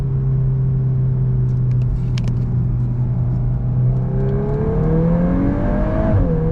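2023 Volkswagen Golf R MK8 engine accelerating after a downshift, a loud steady droning rumble from inside the car whose pitch climbs smoothly, then drops briefly near the end.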